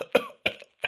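A person coughs three times in quick succession, each short and close up, with brief silences between the sharp bursts.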